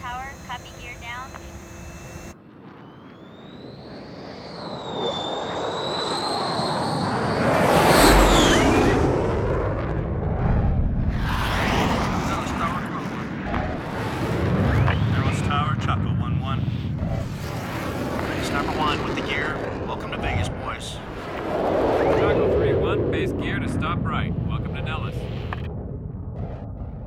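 A fighter jet landing on runway 21 right at Nellis Air Force Base during a Red Flag exercise, its loud, sustained jet roar with a rising whine building and swelling, while radio chatter and voices talk over it.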